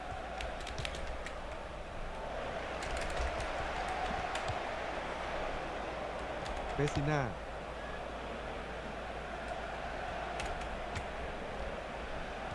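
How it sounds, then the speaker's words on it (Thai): Computer keyboard keys are pressed repeatedly during a FIFA Online 4 match, making light scattered clicks under steady background noise, while someone talks throughout and a brief game sound rises midway. "เดี๋ยวคนได้ยินเสียงคีย์บอร์ดไหม"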